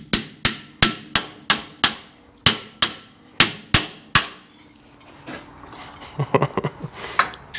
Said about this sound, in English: Grab your hammer.